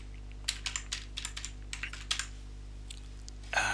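Quick, uneven keystrokes tap on a computer keyboard while a password is entered, a close run of crisp clicks that pauses briefly and then resumes, under a low steady hum.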